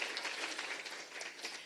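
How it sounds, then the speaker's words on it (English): Quiet applause from a public health policy forum audience thanking the moderator: a soft, distant patter of clapping hands that stays steady for a couple of seconds, with no speech over it. "let's have a round of applause for Dave, our fantastic moderator."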